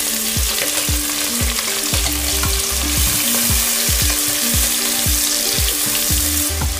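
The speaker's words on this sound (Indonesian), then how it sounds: "Ini saya mau tumis daun bawangnya dulu ya." Spring onions sautéing in hot oil in a wok, a steady loud sizzle broken by repeated scraping stir strokes of a spatula, close up and with no voices.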